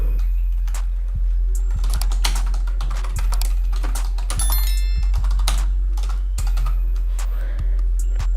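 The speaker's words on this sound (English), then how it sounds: "So I'm gonna type in here" Someone types on a computer keyboard, a close run of irregular plastic key clicks and taps with brief pauses between bursts over a faint steady hum.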